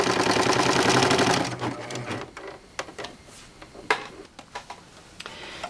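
A serger sewing machine runs in a fast, steady loud whir while stitching a bath mat, stopping after about a second and a half, followed by scattered light clicks and handling taps.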